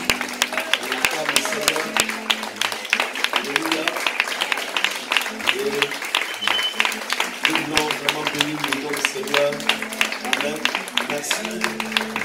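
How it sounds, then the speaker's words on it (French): A church congregation gives a standing ovation for the pastor and his wife, a lively mass of clapping and cheering crowd noise that keeps up steadily, with voices and a rhythmic undercurrent running beneath. "je voudrais qu'on fasse un standing ovation pour acclamer, pour recevoir le pasteur et son épouse"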